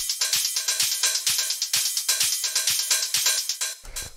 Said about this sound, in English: we have the hi-hats, which all together sound like this